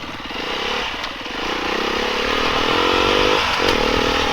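A 2020 Beta 390 RR dirt bike drones steadily while being ridden uphill on chalky terrain, its engine loud and close, pitch rising slightly as the throttle opens, with no voices.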